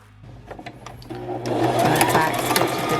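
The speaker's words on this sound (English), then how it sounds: "I'm just going to sew with a 1/4 inch seam allowance" A sewing machine stitching fabric for a clutch wallet: a few soft handling taps, then the motor starts and runs in a rapid, even whirr of close stitching that grows louder and holds.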